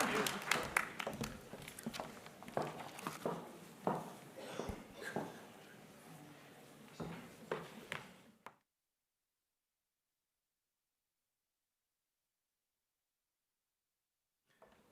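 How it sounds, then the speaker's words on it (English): Audience applause at a national summit fills the first eight seconds, dense overlapping claps with sharper individual hits, before cutting off into near silence. "you need to give yourself a resounding round of applause for being such a good audience"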